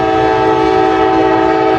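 A freight train on the old B&O line blasts a long, loud, steady horn chord close by as it passes, the sustained tone dominating over rumbling wheels.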